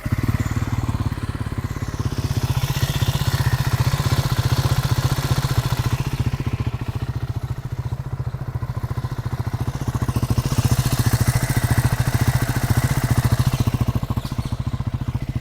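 A Triumph Scrambler 400X motorcycle with about 17,000 km on it runs steadily close by, a continuous throbbing engine note with light mechanical clatter over the whole stretch, no voices.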